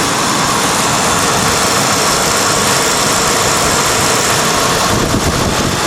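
A 1995 Ford Crown Victoria engine idles loudly and steadily up close, a continuous broadband rumble with no talk over it.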